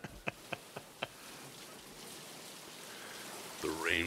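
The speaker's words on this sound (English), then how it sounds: "One man and one mosquito flying" A mosquito flying around at night while rain falls: a few sharp ticks at the start, then a thin, rising insect whine swells up near the end over a soft, steady background hiss.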